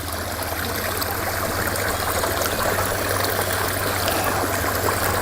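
Water wells up from under a rock and runs over stones in a backyard alpine rock-garden pond feature beside a koi pond, making a continuous, even trickling rush close by with no voices.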